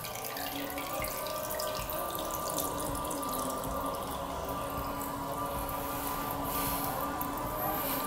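A toilet cistern refills through a newly replaced float valve, giving a steady, even rush of running water that continues unbroken throughout with no voices.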